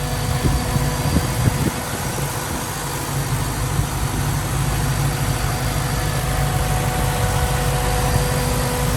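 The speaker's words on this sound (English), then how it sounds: "Starts nicely, settles down to a nice idle. So that whirring noise is the twin electric fans." A Land Rover Defender 90 50th Anniversary with a 5.0 V8 idles steadily, a low, even engine rumble mixed with the constant whir of twin electric cooling fans, with no one speaking.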